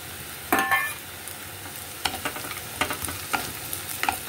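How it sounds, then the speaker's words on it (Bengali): Peanuts tossed into a pan of lightly sautéed vegetables for Bengali fried rice, stirred with a few scraping clatters against a soft steady sizzle, close and alone. "চিনেবাদামগুলো দিয়ে আবারও বেশ কিছুক্ষণ একটু নাড়িয়ে নেব।"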